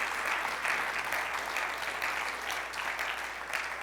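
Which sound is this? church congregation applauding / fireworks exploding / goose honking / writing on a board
church congregation applauding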